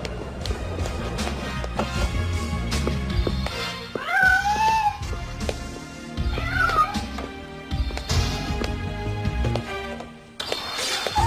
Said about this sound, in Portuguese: Eu vi um gatinho chorando.